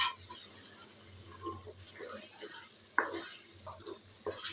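Spices frying and being stirred in a pan for moong dal with green onions, a faint sizzle under occasional scraping strokes and a couple of sharper clinks against the pan.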